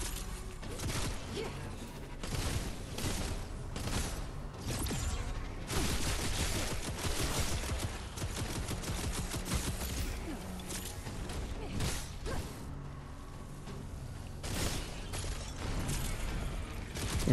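Dense automatic rifle fire in the Wayfinder Echoes video game, a steady rattle of rapid shots running the whole stretch, loud and close, layered with mechanical clanks and impacts over busy game sound.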